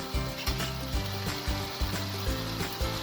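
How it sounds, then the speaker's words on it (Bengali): Mixed vegetables cooked without onion sizzle steadily in a pan as ginger paste is stirred in, with repeated scraping strokes of the spoon setting a loose rhythm over the close, continuous frying hiss. "এখন কিছু পরিমাণ আদা বাটা দিয়ে নেড়ে চেড়ে নামিয়ে নিচ্ছি"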